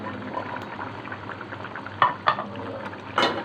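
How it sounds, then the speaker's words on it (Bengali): Garlic cloves and green chillies drop into a simmering fish curry of tengra fish and potato, a steady bubbling boil with a few sharper plops and splashes as they go in, close and moderately quiet. "এবার আমি এখানে দিয়ে দিচ্ছি 4 কোয়া রসুন আর 4টা কাঁচা লঙ্কা"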